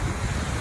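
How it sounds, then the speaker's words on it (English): Strong wind buffets the microphone at a beach, with the broad roar of ocean waves behind it, a steady loud wash of noise with no pauses or speech. "It's windy, as you can see,"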